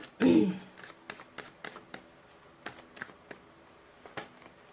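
Tarot cards being shuffled and drawn, a loud riffle at the start followed by a string of soft, separate card taps and slides, close and quiet, with no one talking.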